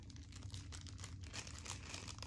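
A plastic wrapper from a Pokémon booster pack being crinkled and folded up: continuous close, quiet crackling and rustling throughout, with no voices.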